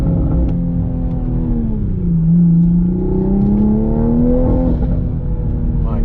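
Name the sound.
Toyota GR Supra 2020 engine revving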